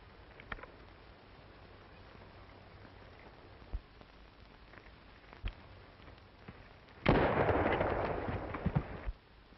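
Rifle shots in a 1935 western film, heard as a few sharp, distant cracks over a low hiss. A longer, louder burst of crackling noise follows near the end. No talking.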